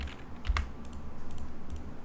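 Computer keyboard keys clicked during SketchUp modelling, one firmer press followed by a few light taps, quiet and close over faint room noise with no talking.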